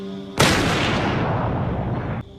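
A single loud gunshot in a zombie-apocalypse drama, an abrupt close blast whose heavy roar and echo fill about two seconds before cutting off.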